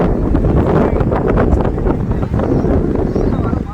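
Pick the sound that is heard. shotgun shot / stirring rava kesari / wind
wind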